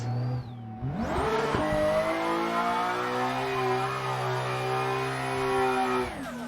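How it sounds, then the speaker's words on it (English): Car engine in the racing game Assetto Corsa held at high revs, then the clutch dropped for a drift start, a steady loud rising whine with layered engine harmonics sustained for several seconds before cutting off. "clutch in, build your revs up, and I'd say pin your foot to the floor on the accelerator and just pop the clutch out"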